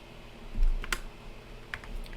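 A few sharp computer keyboard key presses while working in an Excel spreadsheet, close and clicky over a quiet background hum.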